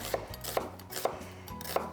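Knife chops onions small on a cutting board, four sharp, evenly spaced thuds over a low background hum.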